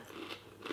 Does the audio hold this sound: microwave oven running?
no